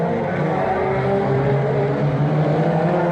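The 126 race car accelerating hard during an F2 auto race, its engine a steady, loud, continuous roar that holds for several seconds, with no talking over it.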